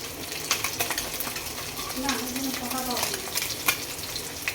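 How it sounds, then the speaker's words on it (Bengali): Pabda fish frying in hot oil, with a steady sizzle and scattered sharp spits and pops throughout; a faint voice-like tone briefly rises beneath the crackle. "এখানে মাছ ভাজা চলছে।"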